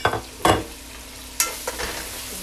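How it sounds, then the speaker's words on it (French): Chopped garlic and leek sizzle in a pan, with a gentle steady fry broken by several sharp scraping stirs of a utensil, close up and without talk. "Ensuite, je mets l'ail haché."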